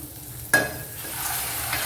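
Water splashes into a pan of sizzling cumin rice, setting off a sudden loud hiss that settles into a steady sizzle, close by with no talking.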